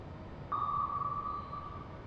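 An active sonar ping from a submarine in the naval game Cold Waters sounds once as a single clear tone that starts sharply, holds for about a second and fades, over a low background hum.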